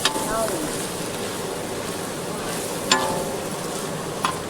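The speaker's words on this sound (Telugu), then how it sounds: "చికెన్ మసాలా గరం మసాలా బాగా కలుపుతున్నారండి" A steady wet scraping and churning of chicken masala and garam masala being mixed into a paste for a large outdoor feast, with occasional sharp clanks of a utensil.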